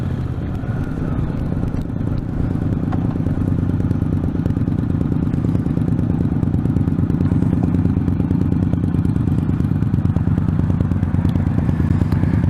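A motorcycle on a ride out toward Buckroe Beach, its engine running with a loud, steady rumble and rattling throb close by, continuous and unbroken throughout, with no talking.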